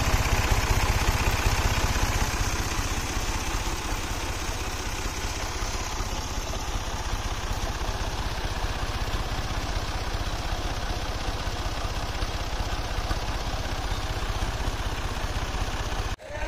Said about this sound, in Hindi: तो डीजल पा के जी आप करने ट्रैक्टर स्टार्ट